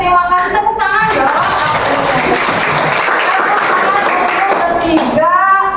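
Students clap together in a classroom, steady applause of many hands that swells and then fades, with a voice speaking briefly at the start and end.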